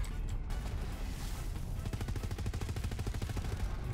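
Rapid gunfire from DAHL weapons in the video game Borderlands 3, a fast regular stream of shots over a loud rumbling background with game effects, continuous throughout.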